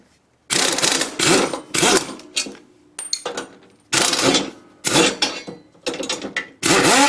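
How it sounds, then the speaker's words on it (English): An old pneumatic impact wrench runs off an air tank pumped to about 90 psi while working on a lawnmower clutch, firing in several loud, rattling hammering bursts separated by short silences. "I got this old impact here, and we got this air tank here, and we pump it up to about 90 psi"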